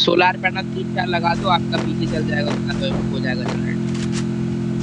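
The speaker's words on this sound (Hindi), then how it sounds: "गाड़ी की आवाज कहाँ से आ रही?" A steady vehicle engine hum in the video game Free Fire drones underneath while people talk over it, staying constant throughout.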